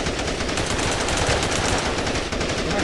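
Rapid automatic gunfire from the mobile shooter Tacticool, dense continuous bursts that are loud and close, filling the whole stretch with no speech over them.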